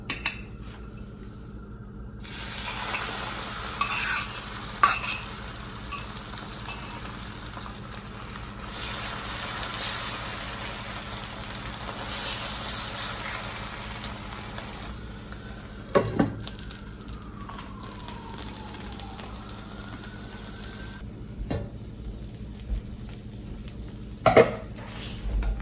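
An omelet sizzles in a frying pan for a long stretch, a steady hiss broken by occasional clinks and scrapes of a utensil against the pan, with no talking.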